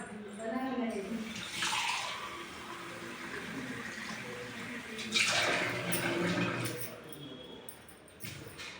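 Water poured into a glass makes a steady, splashy gurgle in two separate pours, with a voice heard faintly in the background.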